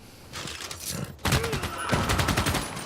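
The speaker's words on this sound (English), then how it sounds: "Machine gun." Machine gun fire in the Civilization VI video game: rapid bursts of gunfire in a dense rattling fusillade that grows louder partway through, with no voices over it.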